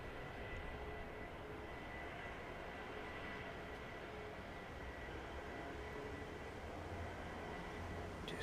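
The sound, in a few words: airliner arriving from JFK at East Midlands Airport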